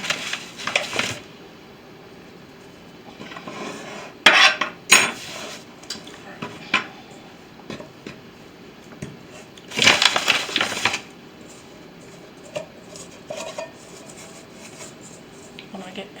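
Biscuit dough being scraped out of a mixing bowl: intermittent scrapes and knocks of a utensil against the bowl, with louder clustered bursts and quieter taps between, close by and otherwise fairly quiet.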